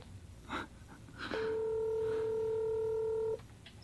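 Phone dialing heard outdoors during a bow hunt: a couple of breathy gasps, then a steady ringback tone holding for about two seconds before cutting off, fairly close and clear.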